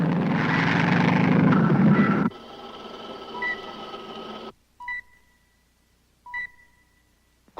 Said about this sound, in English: There's a light civilian plane coming in at 190 degrees.